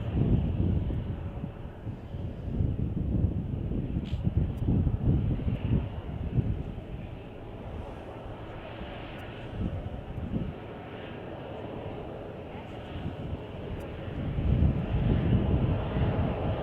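A Boeing 767 that has just landed at Chicago O'Hare, a low rumbling engine roar mixed with wind buffeting the microphone, rising and falling in waves at moderate distance.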